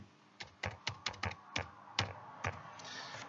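A computer keyboard typed on in a burst of about nine sharp, fairly close keystrokes at an irregular rhythm, entering text into an online exam form, with no voices.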